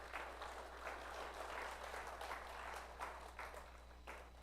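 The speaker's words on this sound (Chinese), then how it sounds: "我们一起来拍手来欢迎他们的立约" Church congregation at a Sunday worship service clapping together in welcome, a steady wash of applause from many hands, fairly faint and slightly distant, with a low hum underneath.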